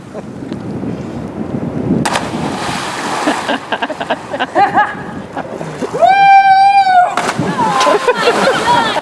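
People jump off a rock into a river in Montana, their bodies striking the water in several sharp, bursty splashes. A loud, sustained shout or whistle-like cry rises midway, with voices and wind noise around it.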